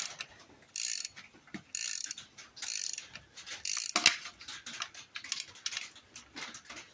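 Hand ratchet loosening a bolt on a four wheeler during a diesel engine swap, giving short bursts of rapid clicking separated by brief pauses, close and moderately quiet.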